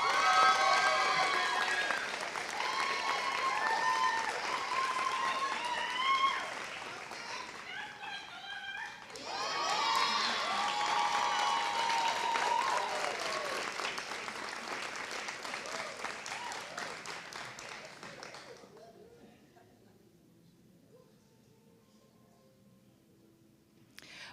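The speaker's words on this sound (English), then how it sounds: "Audience, please, one more time, let's give a round of applause" Audience applause at a summer nursing pinning ceremony, a broad wash of clapping with a voice speaking over the first half, holding steady before thinning and fading out near the end.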